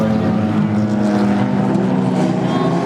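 Hornet class race cars on a muddy dirt speedway, a loud, dense, continuous roar of several engines droning together at close range.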